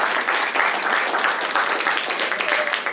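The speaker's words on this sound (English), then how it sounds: "Give all of our TK students a big round of applause." An audience at a school drama performance claps steadily for young students, a dense, even round of applause that carries on throughout with no talk over it.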